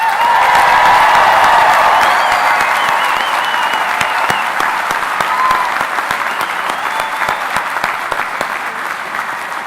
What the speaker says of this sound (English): How about another round of applause for our newest graduates?